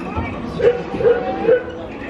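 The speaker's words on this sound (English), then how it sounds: "Puppy dog" A small dog barks three times at an even pace, close by, with people chatting in the background at Walt Disney World.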